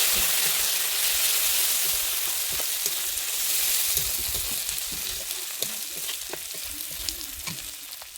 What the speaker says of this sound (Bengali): আদাটা দিয়ে দিচ্ছি দিয়ে আমি ভালোভাবে কষিয়ে নিচ্ছি